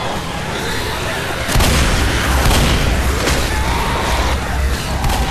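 Molotov cocktail fire bursting into flames in Left 4 Dead, a sudden loud whooshing boom followed by sustained roaring crackle amid gunfire-like bursts, with people talking over it.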